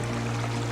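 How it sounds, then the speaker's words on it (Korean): Clear brook water babbles and trickles steadily over stones in a forest stream, a soft continuous wash with a low steady hum beneath it, no voices. "맑은 개울가"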